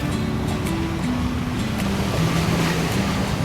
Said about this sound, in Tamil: ஃபுல் அண்ட் ஃபுல்லாக போட்ஸு சவுண்டு,